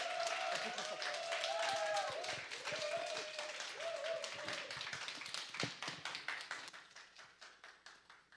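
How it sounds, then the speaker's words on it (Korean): An audience at a women's prayer meeting applauds to welcome a speaker, with a dense burst of clapping that thins into scattered claps and fades, while a voice talks over the start. "우리 박수로 환영하도록"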